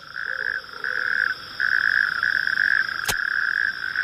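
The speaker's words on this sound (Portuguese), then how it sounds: "Este pequeno animal é um sapo corredor" A natterjack toad in Portugal gives a loud, close, continuous rattling trill in long bursts with brief pauses, interrupted once by a sharp click.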